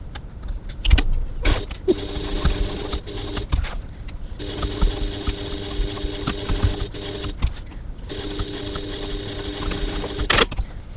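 A sewing machine stitches around the window opening of a handbag phone pocket in three bursts of steady mechanical whirring, separated by short pauses and light handling clicks.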